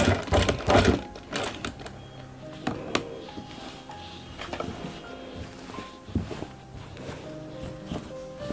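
A sewing machine stitches a gent's kurta pajama in short, uneven bursts of rapid mechanical clatter, loudest at the start, with pauses and small clicks in between.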